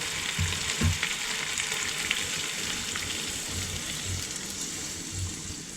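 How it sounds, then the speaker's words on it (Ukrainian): Water poured over browned potato pieces in a hot pan for shupfnudeln hisses into a loud, steady sizzle up close, with a few low thumps of the pan or pot and no voices. "Тепер заливаємо водичкою."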